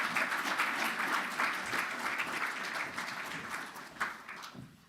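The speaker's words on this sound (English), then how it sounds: "give a round of applause to our brilliant panel" An audience at the Inclusive Growth Conference 2024 applauds a panel, a sustained wash of clapping from many hands that holds steady and then gradually thins out toward the end.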